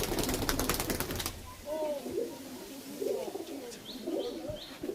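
Teddy pigeons in a loft give soft, repeated coos at close range, with a burst of fluttering or rustling at the start and faint chirps in the background.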